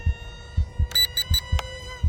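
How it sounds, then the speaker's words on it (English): A single short beep from a remote control transmitter flying a small BM J20 RC jet, signalling low rudder mode, sounding over a steady droning hum and rhythmic low thumps. "Single beep indicates low rudder or mode A."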